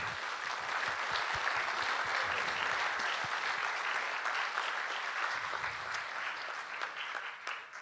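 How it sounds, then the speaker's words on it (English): A town hall audience applauds the panelists at the Lake Pillsbury meeting, steady dense clapping that holds for several seconds at an even level before thinning slightly at the end. "let's give all of the panelists a big round of applause"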